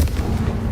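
A single short, heavy blast of the Confringo fire spell in Hogwarts Legacy, loud and close, with a deep low rumble.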